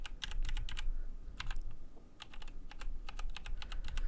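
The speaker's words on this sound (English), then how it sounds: "excuse me while I just crawl across my keyboard." Quick bursts of typing on a computer keyboard while writing code, close and crisp clusters of keystrokes separated by short pauses, over a low room hum with no talk.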